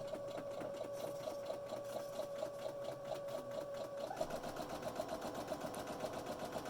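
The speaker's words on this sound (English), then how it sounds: "let's go back to the sewing machine" A sewing machine stitches a fabric face mask with a continuous whirring hum and rapid rhythmic ticking, changing pitch midway as it back-stitches, with no talk over it.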